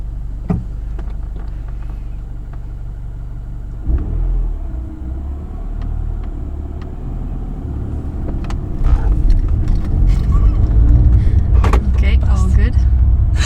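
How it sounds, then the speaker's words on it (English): Manual car starting and driving off, a low engine rumble that swells in the second half with clicks and knocks from inside the cabin, people speaking over it. "Turn on the ignition and then start the car."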